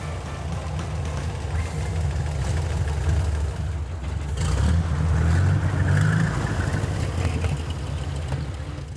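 Vintage Indy race car engine running loud and close, a deep steady idle that swells into a heavier rev midway before settling back, with no talk over it.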